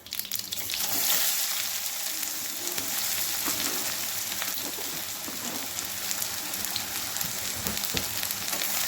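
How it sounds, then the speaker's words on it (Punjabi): Finely chopped onion and ginger sizzle steadily in hot oil with black mustard seeds, a loud, continuous crackling fry with occasional scraping as the mix is stirred. "ਬਸ ਇਹਨੂੰ ਇਦਾਂ ਹਲਾਉਂਦੇ ਹੋਏ ਬਰਾਊਨ ਕਰ ਲਾਂਗੇ"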